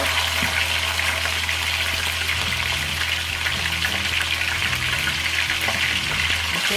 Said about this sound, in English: take the seasoning off first, and put it in the pot to fry